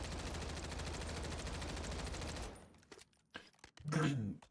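Sustained full-auto burst from an MCW rifle emptying a 40-round magazine in Warzone 3, loud, rapid and continuous for a couple of seconds, then stopping into scattered quieter game sounds and a short burst of voice.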